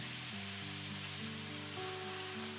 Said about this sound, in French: Faire revenir l'oignon, l'ail et le gingembre une vingtaine de secondes.